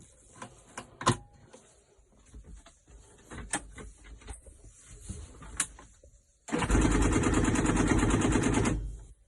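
A 1990 Belarus 825 tractor on a dairy farm being cranked: a few scattered clicks and knocks, then a loud, steady mechanical burst lasting about two and a half seconds before it cuts off.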